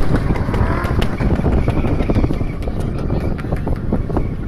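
Drift cars at King of Drift Slovakia 2013 in Piešťany roar around the track, engines revving loud and close with rapid popping bursts and gusting wind over the microphone.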